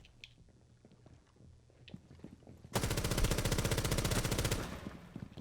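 Rapid automatic gunfire in Rainbow Six Siege bursts in loud and close midway through, a dense sustained rattle of shots after a quieter stretch of scattered game sounds.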